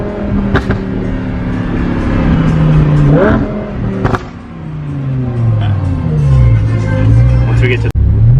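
A Lamborghini Huracan LP580-2 fitted with an Armytrix titanium exhaust revs repeatedly, engine pitch rising and falling in loud close sweeps with sharp pops, while people talk over it.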